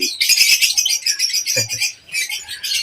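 A bird calls in a run of bright, shrill chirps and squawks, with a brief low thump partway through and a short quiet gap before the calls resume.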